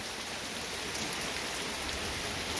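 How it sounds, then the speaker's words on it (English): Heavy rain pours down in a dense, loud, unbroken roar of drops hitting surfaces, steady from start to finish with no voices. "Here comes the downpour."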